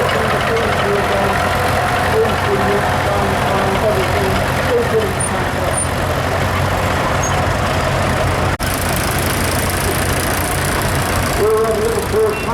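A diesel tractor engine chugs and idles steadily in an outdoor arena during a morning tractor parade at a spring fair, running loud and continuous while a commentator talks over it.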